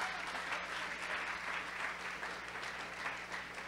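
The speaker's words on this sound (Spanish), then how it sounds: "Denle un fuerte aplauso al Señor." A church congregation at an anniversary service claps loudly to the Lord, a continuous even patter of many hands with a low hum beneath, heard at a moderate distance.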